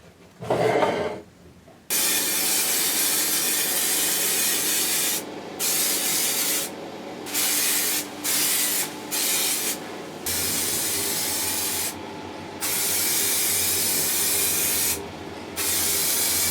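Spray paint hisses onto cosplay armor body panels in a series of broad, steady bursts of several seconds each, separated by short pauses, close and loud with no talking.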